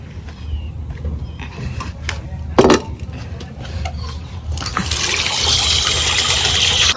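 Tap water running and splashing while a plant pot is rinsed, starting with scattered knocks and trickles, then swelling into a steady louder gush in the last couple of seconds, with no talk.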